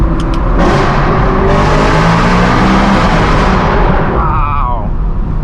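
A straight-piped, Gintani-tuned V8 in a BMW M3 E92 revs hard and loud, a sustained roaring howl that rises and falls with the throttle. A brief sharp pop comes at the start, and the roar fades slightly near the end.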